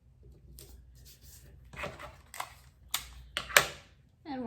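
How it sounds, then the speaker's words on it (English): Sheets of paper are taped together, with crinkling rustles, tape being pulled and pressed down, and a few sharper crackles and taps close by, with no talking. "And I'm going to tape my sheets of paper together."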